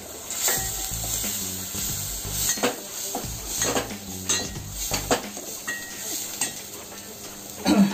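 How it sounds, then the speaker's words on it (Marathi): Malvani ground masala paste sizzles and fries in a pan while being stirred for a clam curry, with steady hiss and occasional clinks of a utensil against the pan. "आपल्याला कसं घट्ट पातळ हवं त्याप्रमाणे हे वाटप घालायचं आहे. हे पण चांगलं परतून घ्यायचं."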